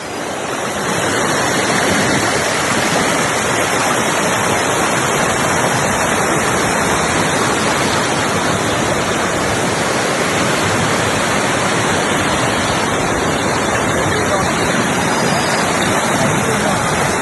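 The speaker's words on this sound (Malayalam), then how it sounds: "കൊടുങ്ങൂർ മണിമല റോഡിലെ പനംമൂട്ടിൽ തോട് കരകവിഞ്ഞ് വെള്ളം കയറി." Overflowing stream at Panamoottil on the Kodungoor–Manimala road in Kottayam, floodwater rushing across the road: a loud, unbroken roar of surging water close by, steady and dense from start to end.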